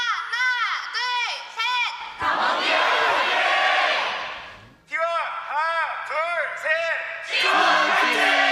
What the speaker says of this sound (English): we have recorded a bunch of fans cheering